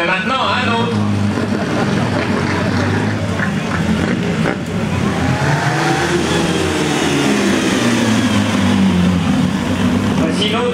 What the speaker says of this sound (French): Voici une autre voiture de course présentée par monsieur Thibault, voiture numéro 108.